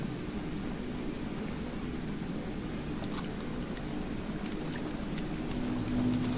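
A white noise machine running in a home, giving off an even, unchanging hiss over a soft low rumble, constant and moderately quiet with no other sounds.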